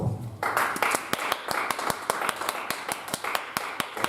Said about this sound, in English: keep clapping your hands until I stop